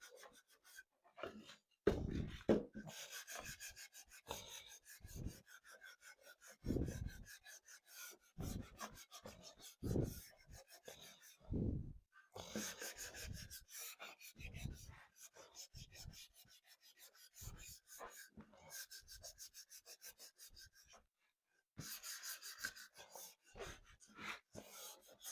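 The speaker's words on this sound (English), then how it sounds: "My sanding block here." Rhythmic scratchy rasping of a wooden frame being sanded by hand with a sanding block, repeated strokes in bursts with brief pauses, close and fairly loud.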